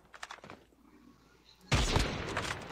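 Mobile shooter game Call of Duty Mobile in battle royale mode, with a few light clicks and taps, then a sudden dense burst of loud automatic gunfire filling the last second.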